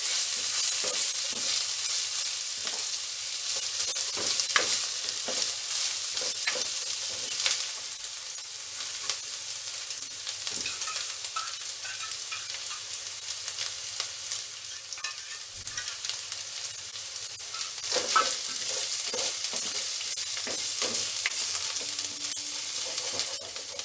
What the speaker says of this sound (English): I am going to fry it for a few more minutes